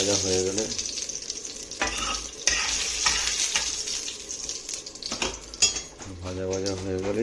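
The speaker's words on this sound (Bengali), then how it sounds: "তেল গরম করে গোটা গরম মশলা, তেজপাতা আর জিরে ফোড়ন দিয়েছি। এটা একটু ভাজা হয়ে গেলে" Whole garam masala, bay leaf and cumin frying in hot oil, giving a steady close sizzle with occasional utensil clinks and stirring scrapes. Brief tonal sounds rise at the start and end.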